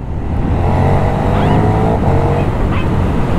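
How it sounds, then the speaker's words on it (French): A KTM 1390 Super Duke R Evo motorcycle accelerates, its engine note rising loud and close for a few seconds under steady wind noise. "On accélère un petit coup."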